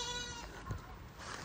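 Sheep on a small farm let out a short bleat, middling in loudness, against a faint outdoor background.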